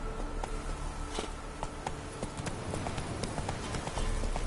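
Roach the horse gallops in The Witcher 3, hooves clopping in a quick, steady rhythm close by, with faint voices under it.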